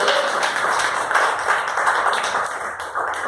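Church congregation at a Pentecostal communion service applauding together, a dense, sustained wash of many hands clapping at steady loudness throughout.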